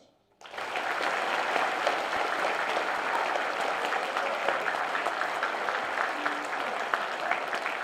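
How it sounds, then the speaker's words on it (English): After a brief quiet moment, sustained applause honoring veterans erupts from a large audience at a school FFA Veterans Day assembly, steady and full for several seconds. "please join me in honoring these veterans for their service with a round of applause"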